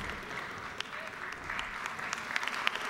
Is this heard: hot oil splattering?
no